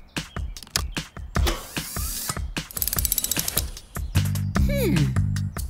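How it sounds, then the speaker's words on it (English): A cartoon truck's hose reel is rigged as a winch, pulling a vehicle from slippery mud, with rapid ratcheting clicks and gear mechanisms, a whirring wind-up, then a tonal sliding cartoon effect under a voice. "turn Fiona's reel into a winch"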